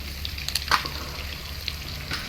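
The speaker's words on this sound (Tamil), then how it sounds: "நல்லா வந்து மிக்ஸ் பண்ணி வதக்கிக்கலாம்" Chicken gravy masala sautéing in a pan during a large batch cook, giving a steady soft sizzle with a few brief stirring scrapes and clinks, fairly quiet and with no talking.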